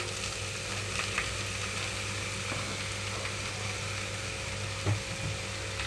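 Ridge gourd pieces hit a pan of fried ginger and garlic and sizzle steadily and evenly from close by, over a low, constant hum, with no talking.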